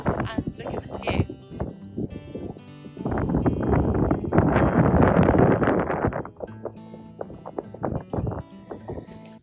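Gusty wind on the Isle of Iona buffets the microphone in a strong, sustained roar that swells in the middle, with people talking over it at the start and end.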